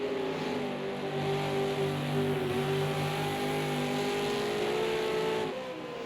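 Super2 race cars race at Donington Park National, engines whining at high, sustained pitch with overlapping tones that shift as cars pass, loud and continuous with no talk.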